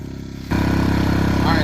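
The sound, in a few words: portable generator running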